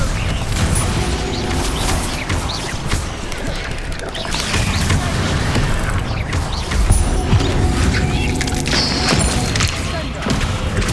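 The Bombarda blasting spell explodes during combat in Hogwarts Legacy, a dense, continuous wall of booms, crashes and thuds with clattering effects, loud throughout, and a voice shouting amid the din.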